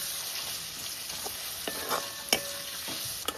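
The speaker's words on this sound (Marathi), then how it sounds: "सगळ्यात आधी तेलात खडे मसाले टाकले, त्याच्यानंतर मिरची आणि आता कांदा" Onion fries in oil with whole spices and chili, making a soft, steady sizzle with intermittent scraping stirs and a couple of light utensil clinks nearby; no one speaks.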